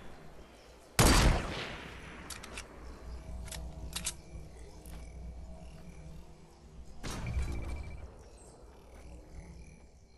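Gunfire in the video game Fortnite: a loud, sharp burst of shots near the start, with a few quieter isolated shots after, then a second dense burst later, over low background game ambience.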